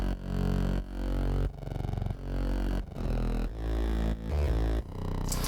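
A very noisy, distorted synth bass pulses in loud, buzzing phrases with short gaps between them, sitting alone in the mix of an electronic track.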